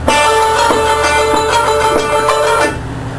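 A brief chopped music loop with sustained chords and regular rhythmic hits plays loudly on its own, then cuts off near the end.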